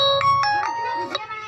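An incoming-call ringtone on a mobile phone plays a short, bright, chiming melody of quick repeated tones. It sounds close and clear, with faint background noise.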